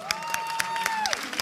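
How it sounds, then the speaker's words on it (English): Audience applause at the Intel Challenge Katowice 2015 CS GO esports grand finals, brief crowd clapping and cheering under a sustained tone, with sharp claps standing out. "A round of applause for Intel for this event."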